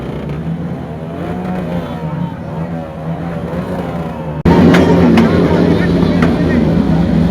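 Kawasaki ZX-10R and Z900 motorcycles revving their exhausts at a crowded bikers' gathering, a steady loud engine drone that jumps sharply louder halfway through, with chatter mixed in.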